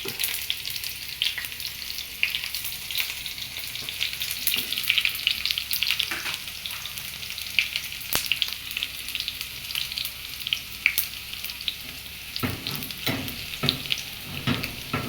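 Shallots fry in a pan for a curry, giving a steady, close crackling sizzle across the whole stretch, with scattered sharp pops and a few louder scraping stir strokes near the end, and no talk.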